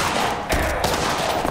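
Shotgun fire in the video game Cuisine Royale: a sharp, loud blast about midway through, set against constant dense game noise with no voices.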